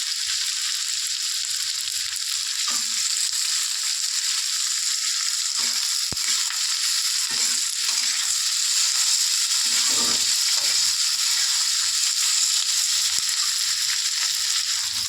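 Tomatoes hiss and sizzle steadily in a hot frying pan while egg chili cooks, a continuous loud bright crackle with occasional soft stirring clunks underneath.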